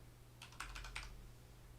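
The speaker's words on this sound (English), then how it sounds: "You're going to type in time code" A short quick flurry of faint keystrokes taps out a search term on a computer keyboard, a brief cluster of light clicks over a low steady hum.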